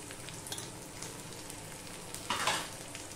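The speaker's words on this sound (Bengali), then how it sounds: "দিয়ে মশলাটা আমি ভালো করে কষিয়ে নেব।" Cumin and chilli powder masala frying in a pan for a yogurt chicken curry, with a steady soft sizzle throughout and a louder burst of crackling as the spices are stirred near the end.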